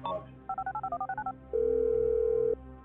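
Telephone keypad tones in GTA V: a quick run of about ten short dialing beeps, then a steady ringback tone held for about a second, loud and clear with no talk over it.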